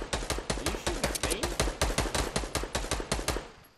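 Rapid gunshots fire in the video game Fortnite, a steady burst of sharp, loud cracks repeating about every fifth of a second, then stopping abruptly.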